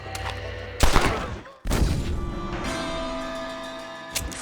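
Gunfire in a Red Dead Redemption shootout: loud, close bursts of rapid shots and booming blasts, with a brief cut between volleys and a ringing tail, no talk.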